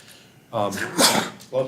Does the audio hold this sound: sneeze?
yes